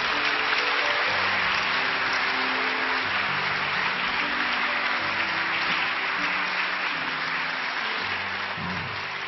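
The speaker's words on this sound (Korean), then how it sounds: "우리 오동찬 집사님 우리 박수로 환영합니다." A church congregation at an early-morning prayer service applauds to welcome a deacon giving a testimony, a long, steady patter of clapping with a low hum underneath.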